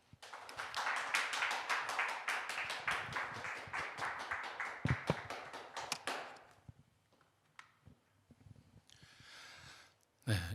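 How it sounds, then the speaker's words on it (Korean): A seated audience at a lecture academy welcomes a pastor with quick, distinct claps for about six seconds, rather soft and slightly distant. The claps stop abruptly, leaving near silence with faint breaths and movement. "우리 시청자들께서 뜨거운 박수로 환영해 주시면 고맙겠습니다."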